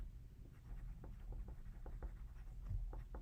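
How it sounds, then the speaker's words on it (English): Marker or pen writing the word green on a color wheel worksheet, a series of soft, close scratchy strokes in a quiet room with low background hum. "I'm going to write green"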